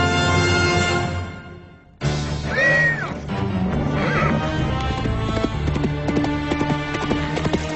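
Horse hooves clip-clopping amid a busy medieval adventure scene, with a horse whinnying briefly and other effects layered over a steady, fairly loud background; no speech.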